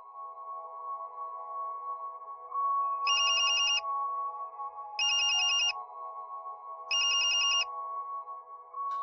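A phone ringtone sounds inside a house in three short, evenly spaced bursts, each a bright repeating trill, over a steady low background hum.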